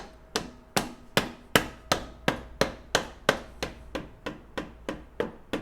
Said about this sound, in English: we're just going to get a soft hammer and just tap that in.